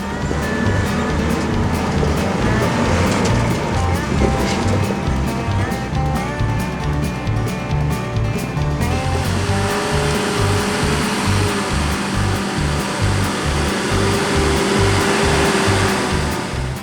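A stock, standard 4WD with worn suspension and a nearly open limited-slip diff climbs a forest track in Bunyip Forest, its engine droning loud and close with steady rumbling strain that shifts in pitch partway through.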